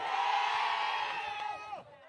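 A Labour Party rally crowd in Boyd's, West Basseterre roars and cheers, a sustained mass of voices that swells and then fades away near the end.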